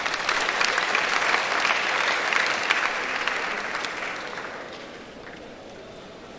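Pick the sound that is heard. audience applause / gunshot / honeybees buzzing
audience applause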